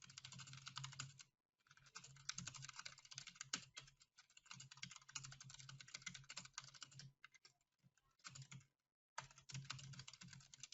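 Typing on a computer keyboard, close and fairly quiet, with rapid clustered key clicks in bursts broken by brief pauses, alone without speech.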